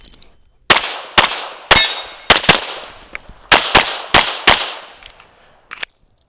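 Gunshots ringing on steel shooting targets during a practical shooting stage, with about a dozen sharp, loud reports in irregular pairs and bursts, each followed by a bright metallic clang and short ring.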